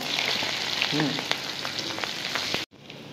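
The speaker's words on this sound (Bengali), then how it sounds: "এবার তেলে রসুন কুচি, আদা কুচি দিয়ে দিলাম আর দিয়ে দিলাম কাঁচা লঙ্কা।" Chopped garlic, ginger and green chilli fry in hot oil for a paneer chilli dish, a steady close sizzle with a few sharp spatters and utensil taps, cutting out near the end.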